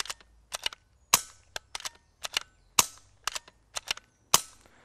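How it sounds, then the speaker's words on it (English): A BSA Super 10 air rifle fires roughly a dozen sharp, crisp shots in an irregular sequence, each a close, snappy crack with a short decay, alone with no talking. "I'm then going to fire the gun about half a dozen times, and what we should hear is the sound of those shots getting quieter."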